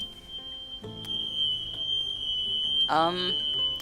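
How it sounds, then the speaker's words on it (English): A fire alarm goes off indoors with a steady high-pitched electronic tone held throughout, loud and continuous, while some brief other sounds briefly overlap near the end. "Can you hear the fire alarm?"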